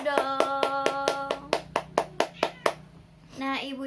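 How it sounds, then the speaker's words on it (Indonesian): A group of mothers in a community health and nutrition session claps in a quick burst of about ten sharp, evenly spaced claps, close and fairly loud. A voice speaks over the start, and talk picks up again at the end. "Terima kasih, tepuk tangan dulu dong."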